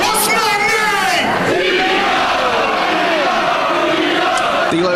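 A wrestling crowd in Coventry chants a wrestler's catchphrase in unison, a loud, dense roar of many voices rising and falling with rhythmic shouted phrases.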